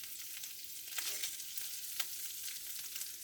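Sausage sizzles in its rendered fat in a pan for low carb Southern cornbread stuffing, a steady close crackling hiss with occasional pops and light stirring.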